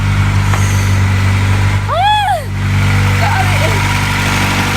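A 1996 Acura Integra with a freshly replaced head gasket idles with a steady, loud hum throughout, and a rising-and-falling squeal cuts in briefly near the middle.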